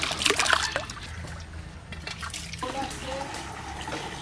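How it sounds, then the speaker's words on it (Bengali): Rice grains swished and rubbed by hand in a bowl of water, with wet trickling and splashing that is loudest at the start and then settles into softer sloshing. "চালটা কত সুন্দর, কষলায় কষলায় ভালো করে ধুয়ে নেব।"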